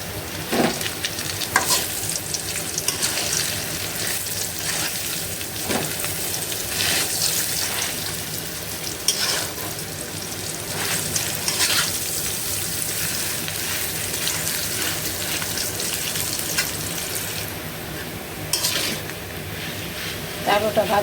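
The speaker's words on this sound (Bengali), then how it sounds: "আলুটা ভাজা করবো আর কি।" Potatoes fry with lightly cooked onions in a pan, giving a continuous loud sizzle with intermittent scraping stirs close by.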